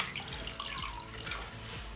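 Water from soaked orchids hung on a tap drains and trickles steadily into a sink, a soft continuous splashing with scattered drips, quiet and close.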